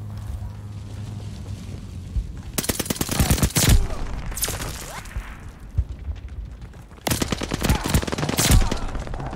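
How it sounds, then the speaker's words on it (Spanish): Shotgun blasts in Call of Duty Vanguard come in two dense volleys of loud, rapid gunfire bursts, separated by a quieter stretch with lingering booms and a steady low drone. "Ay, escopeta, ¿eh? Ya la escuché."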